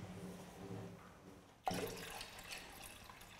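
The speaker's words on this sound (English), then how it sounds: "the water goes back into the container. So the water changes shape back into the jug" Water is poured from a container back into a jug in a classroom, starting with a sudden splash and continuing as a steady, quiet pouring stream; a faint hum comes before it.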